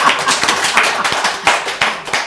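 Studio audience clapping at the start of an encore talk show, a dense round of applause close and loud with sharp individual claps, no voices.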